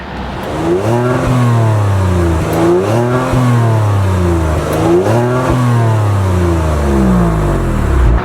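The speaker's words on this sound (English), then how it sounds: "with the optional sport exhaust system, how's it sound?" A 2022 Genesis G70 3.3 twin-turbo V6 revs hard through its optional sport exhaust, rising and falling in repeated loud sweeps, a deep throaty roar heard up close.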